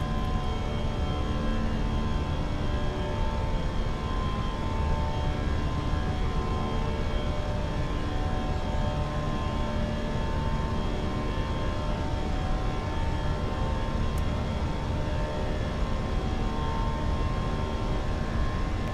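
Steady, loud jet-engine roar from a British Airways Airbus A319 at climb thrust in a flight simulator, a continuous broadband drone holding level from start to finish with no voices.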